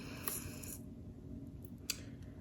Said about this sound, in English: we're just gonna trim it off with our scissors.